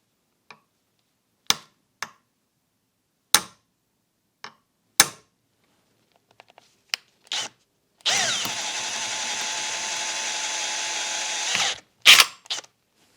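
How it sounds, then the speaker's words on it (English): A power drill bites into a throttle body cap, first in several short sharp taps and clicks, then one loud continuous drilling run lasting a few seconds before stopping, up close with no talking. "I've got no idea what we're going to find under here, but we'll just try and drill through"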